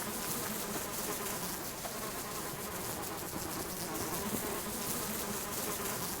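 A swarm of bees drones without a break in the survival game Subsistence, a thick, close, unbroken buzz that holds even in level from start to finish.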